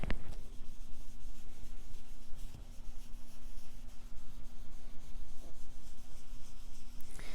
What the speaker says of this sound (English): You can get really nice backgrounds with these blending brushes